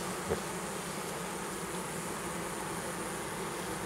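A dense, steady buzz of many honey bees close up at an open century-old horizontal Layens hive, droning continuously without pause and no voices.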